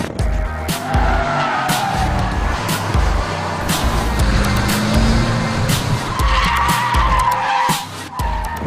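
A Mercedes-Benz McLaren SLR Stirling Moss driven hard on a track, its engine roaring loud and close with repeated tyre squeals and skids through the corner, no talk.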